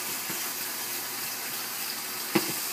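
Canned black beans being rinsed under a kitchen tap, a steady, even stream of running water lasting throughout with a single brief knock near the end.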